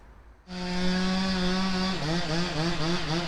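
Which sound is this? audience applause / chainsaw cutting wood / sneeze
chainsaw cutting wood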